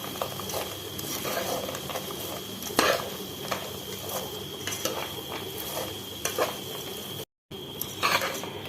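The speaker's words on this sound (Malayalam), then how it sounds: "നന്നായിട്ട് മിക്സ് ചെയ്തെടുക്കാം." Anchovy (netholi) fish pickle stirred in a pan, a steady run of soft scraping and clinking of the spoon against the metal with a few sharper knocks, close and continuous.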